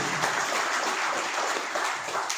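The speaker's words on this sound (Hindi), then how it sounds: "एक जोरदार तालियां बजाएं एसलीपियस वेलनेस के लिए" Loud applause for Asclepius Wellness at a seminar in Muzaffarpur, Bihar, a dense, even wash of clapping that holds steady throughout with no voice over it.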